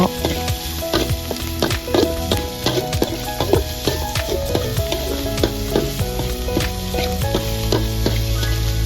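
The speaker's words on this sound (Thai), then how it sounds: "พัดไปเรื่อยๆนะเจ้าห้องพริกกับหอยเข้ากันเจ้า" River snails stir-fried with chili in a wok, shells clattering and rattling constantly against the metal under a loud, busy sizzle, close up and without pause.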